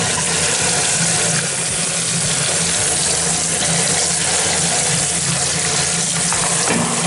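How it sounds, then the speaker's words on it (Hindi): Running water pours and splashes through the fine mesh of an air conditioner filter, a loud, continuous, hissing gush like a tap rinsing in a sink. "बस अब आपने इसके अंदर से अच्छे तरीके से पानी जो है वो बहा देना है"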